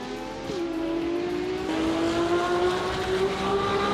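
Race cars roar past during a race, one engine note rising and holding steady at close range over the ongoing drone of other engines, with no voices.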